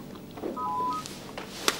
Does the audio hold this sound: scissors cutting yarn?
no